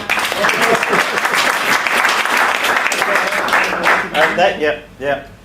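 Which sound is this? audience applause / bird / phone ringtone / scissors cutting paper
audience applause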